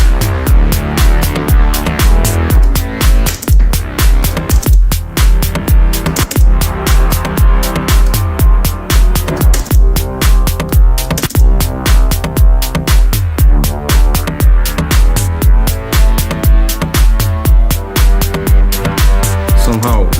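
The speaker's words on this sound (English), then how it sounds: "Way too much reverb." Acoustic deep house track built in Logic Pro X with heavy reverb, a steady four-on-the-floor pulse, dense washed-out harmonic layers and a loud, continuous mix with no voices.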